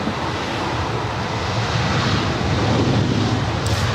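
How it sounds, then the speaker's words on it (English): An Air Tahiti Nui Dreamliner taxis at LAX toward runway 24 left for departure, giving a steady, loud jet engine roar mixed with broad wind-like rushing. "that Air Tahiti Nui Dreamliner making her way up here to 24 left for a"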